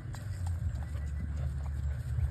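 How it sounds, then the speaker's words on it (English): Hoofbeats of a 12-year-old registered quarter horse gelding, about 15 hands, loping under a rider, a steady rhythmic clip-clop over a low continuous rumble, fairly close and moderately loud with no voices. "That horse squeezed right off into a lope."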